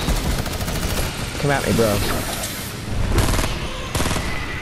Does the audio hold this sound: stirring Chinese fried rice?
no